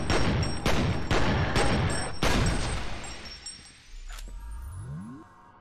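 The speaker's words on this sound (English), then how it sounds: "We'll find out if you can shoot through that." A rapid burst of gunfire with clinking, shattering debris rings out in the first-person shooter F.E.A.R., several loud shots close together, then a fading metallic ring and a rising mechanical whir.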